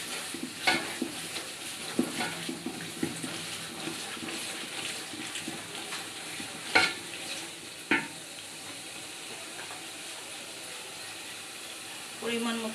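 Cumin powder frying and being stirred in a pan while cooking morog polao, a quiet continuous sizzle with intermittent scraping and a few sharper clanks of the spoon.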